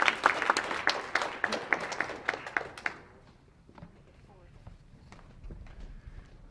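An elementary school crowd applauds the city champion girls basketball team at a winter sports awards ceremony, with dense clapping for about three seconds before it dies away into a quiet room with scattered faint noises.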